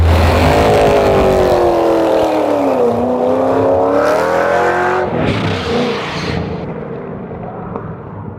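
A hypercar engine pulls hard in fifth gear. Its loud, close howl climbs and dips in pitch through rapid revving and fades slightly toward the end.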